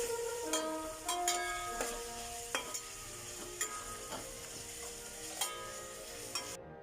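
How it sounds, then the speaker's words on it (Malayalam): Onions fry with salt in a pan while a spoon stirs them, a constant quiet sizzle punctuated by repeated sharp metallic scrapes and taps against the pan, with no talking. "ഇതിലേക്ക് ഉപ്പ് ചേർത്ത് കൊടുത്താൽ പെട്ടെന്ന് ബ്രൗൺ നിറമാകും. എന്നിട്ട് നല്ലതുപോലെ ഇളക്കി കൊടുക്കുക."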